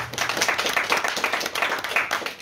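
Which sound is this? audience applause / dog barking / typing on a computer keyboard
audience applause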